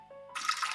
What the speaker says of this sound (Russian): Ставлю на весы емкость и наливаю.